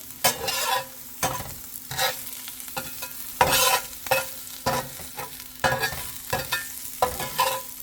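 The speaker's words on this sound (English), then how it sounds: "I'm going to add some red onions. We want to make them fragrant, slightly caramelized" Red onions sauté in a pan for a chickpea scramble, a steady soft sizzle broken by about ten regular utensil stirring scrapes, close and alone without talk.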